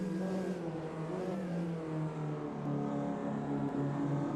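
A Ginetta race car engine in the Automobilista 2 racing game at Donington Park, a continuous buzzing engine note rising and falling through the lower gears, loud and steady with no talk.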